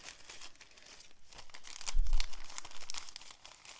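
A large sheet of stickers crinkles and rustles as it slides into a plastic Ziploc bag, giving soft, close, irregular crackling with a few louder crunches.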